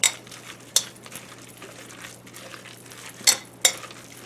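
Two forks scraping and clinking as they mix shredded chicken in a crockpot, a few sharp metallic taps over soft stirring, close by and without speech.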